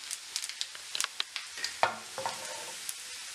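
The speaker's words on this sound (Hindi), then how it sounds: "लहसुन के लाल होते ही मैं इसके अंदर जीरा डाल दूंगी" Cumin seeds crackling and popping in hot oil with frying garlic and ginger for a mustard leaves curry, sharp close pops over a quiet sizzle alongside light stirring.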